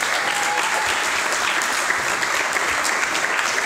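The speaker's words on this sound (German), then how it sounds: "Applaus für Tristan Nauber." Dense, steady audience applause fills the room after a lecture at the 2019 Bergfest lecture event, holding even and loud for a few seconds with no talking over it.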